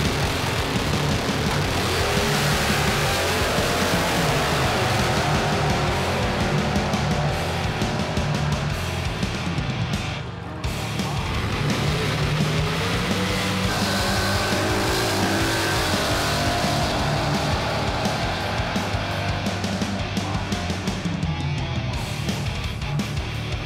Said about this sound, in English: So today on the track, we're running on E85, and let's see what we get time-wise.